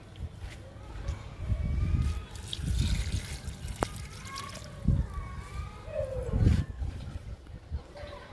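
Water splashes and trickles into the soil of a potted star fruit plant in intermittent pours, with soft gurgles and drips, fairly quiet and close.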